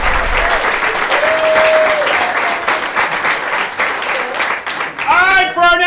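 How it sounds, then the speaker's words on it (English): Improv-show audience applauding the performers with sustained, dense clapping throughout, loud and close, with a few cheers and whistles rising near the end. "Another huge round of applause for everybody."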